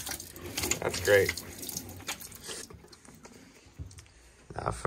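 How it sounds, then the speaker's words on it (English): Water runs briefly from a foot-pump tap on a freshly primed water system, a soft splashing flow near the start under nearby speech and mild clatter, then fading to quiet. "let's start with the foot pump. So first, prime the system up,"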